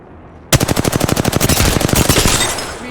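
Rapid automatic gunfire in Apex Legends bursts out after a brief quiet, a steady stream of loud, close shots that continues without a break.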